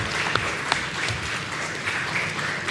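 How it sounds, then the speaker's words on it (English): Applause for the Leaders Co-operative Credit Union at a primary schools quiz event, an audience clapping steadily with a few sharper individual claps standing out early on. "Could you give the Credit Union a round of applause?"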